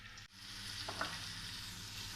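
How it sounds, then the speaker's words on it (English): Onions and tomatoes fry in a stew pot for a Cameroonian potato hot pot, giving a steady close sizzle with a brief dip near the start and a soft stir or clink partway through. "Tomatoes goes right in there. I'll check to see how my tomatoes are doing. Frying nicely."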